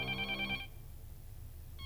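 A telephone rings once in a short electronic trill, then stops, leaving a low room rumble and the start of another ring.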